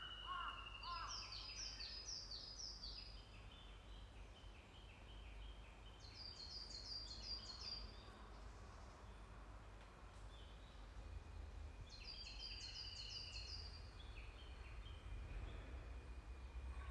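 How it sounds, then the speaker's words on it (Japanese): Several Japanese bush warblers sing in turn, clear whistled phrases ending in rapid trills, some near and some farther off, over a soft outdoor background. "何羽もウグイスいますね。"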